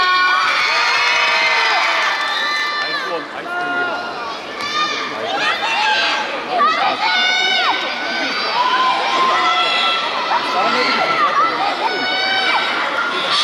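A concert crowd at a charity show cheers and claps loudly, with many high shouts and whoops rising and falling over continuous crowd noise.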